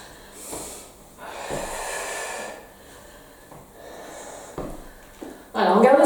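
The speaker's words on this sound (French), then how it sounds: "Soufflez, inspirez." Steady, breathy exhales and inhales during an arm and chest firming exercise, heard close in slow alternating waves, followed by a sudden louder burst at the end.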